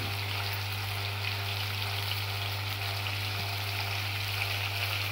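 A large hilsa fish fries in a hot pan and is turned over, giving a loud, steady, close sizzle with a constant crackling hiss and no pauses or talk.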